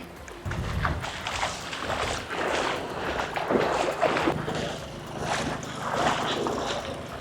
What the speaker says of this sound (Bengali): আমাদের বোট চলে আসছে